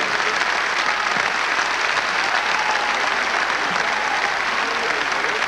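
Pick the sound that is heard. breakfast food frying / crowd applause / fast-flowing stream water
crowd applause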